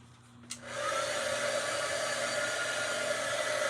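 A hair dryer dries craft paint, switching on with a click and then blowing in a steady, loud, close whoosh that continues without a break.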